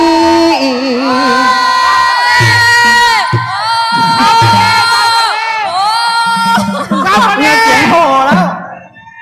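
Crowd at a Thai likay folk-opera performance by Toto Thanadech and Tom Niran yells and cheers loudly, a dense, sustained wall of excited voices with shrill whoops rising and falling, easing off only at the very end.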